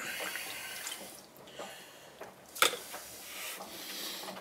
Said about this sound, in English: Keep the water flowing.